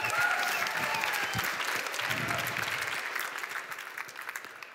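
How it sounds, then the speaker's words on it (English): Audience applause at the Slush 2015 pitch event, a steady wash of clapping from a crowd that fades slightly toward the end. "loud applause"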